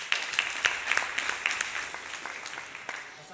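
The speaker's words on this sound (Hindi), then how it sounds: "डायमंड स्टार माननीय धर्मेंद्र मोरा जी और आप सभी लोग अपने अपने साथियों को जोरदार तालियां।" Audience applause at a networking company event: a room of people clap in a busy patter, with sharper claps up close, gradually thinning out.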